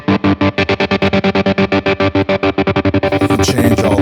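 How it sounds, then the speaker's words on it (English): Electric guitar played through Line 6 Helix LT effects: a rapid run of evenly picked, distorted notes with chorus and echo, loud and up close, turning into a brighter, washier swell near the end. "this gives you an idea of some of the effects in Helix"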